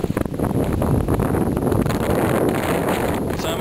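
Strong valley wind buffeting a paraglider pilot's microphone in flight, a loud continuous roaring rumble with gusty fluctuations and no clear speech.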